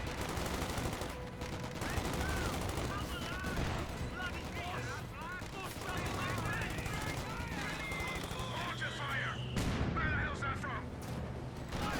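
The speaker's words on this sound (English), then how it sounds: "Good mortar hit there." In Company of Heroes 2, mortar rounds and white phosphorus artillery land amid steady gunfire and battle noise, with a caster talking over the dense, continuous combat.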